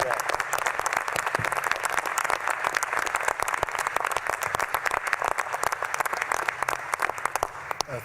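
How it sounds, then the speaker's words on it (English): Sustained applause from a large crowd at a National Space Council event at the U.S. Space and Rocket Center, Huntsville, Alabama, steady and dense throughout, with a voice faintly audible beneath the clapping. "Let's give them all a round of applause."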